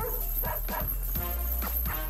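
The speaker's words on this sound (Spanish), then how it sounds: "Perro malo." A cartoon dog barks and whimpers in a string of short yips and whines, close and clear over a steady background hum.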